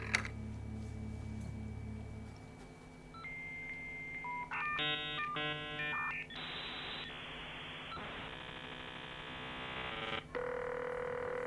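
A phone number is dialed in a video game on an alien's rotary-style phone, heard as a run of stepped electronic dial tones and beeps in quick sequence that end in a steady line tone, clear and close with no talking.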